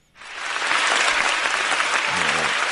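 Applause sound effect played on a Japanese radio show, a dense burst of clapping that swells in quickly and holds steady, with a brief voice murmuring underneath near the end.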